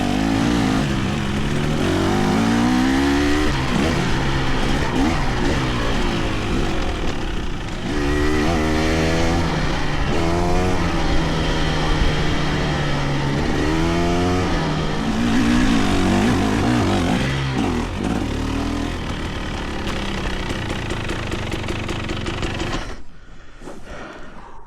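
A Fantic XE300 or KTM 300XC-W two-stroke dirt bike being ridden, its engine loud and close, rising and falling through repeated revs and gear changes for most of the stretch before cutting off near the end.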